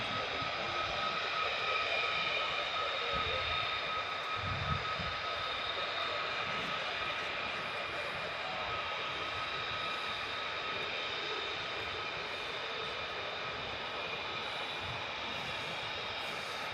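An F-15 fighter jet at RAF Lakenheath produces a steady, distant engine roar with a sustained whine, holding fairly even across the whole stretch without talk.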